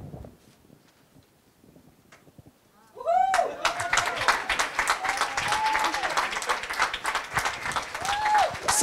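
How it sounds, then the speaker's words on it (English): Audience applause for a third-place team coming on stage, a loud dense burst of clapping that erupts suddenly after a near-silent start and continues steadily to the end. "a big round of applause for our 3rd"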